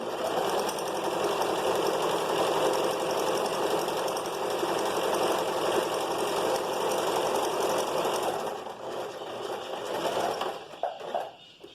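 A sewing machine stitches a vest in one continuous, evenly paced run for about eight seconds, then slows and stops with a few faint handling sounds.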